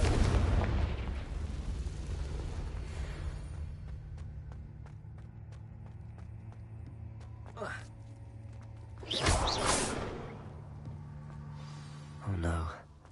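Confringo and Bombarda spell blasts in the Hogwarts Legacy video game burst out in a rapid series, booming and crackling over a steady low game hum, with a few louder blasts spaced apart near the end.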